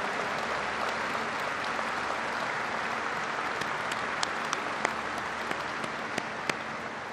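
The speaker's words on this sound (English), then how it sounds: "Please rise and give these leaders in the House and in the United States Senate a big round of applause" Sustained audience applause for House and Senate leaders at a speech at Kennedy Space Center, a dense, steady wash of many hands clapping with a few sharper claps standing out near the end, no talking.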